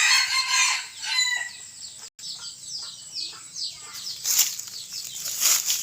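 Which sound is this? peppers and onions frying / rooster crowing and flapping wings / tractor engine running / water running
rooster crowing and flapping wings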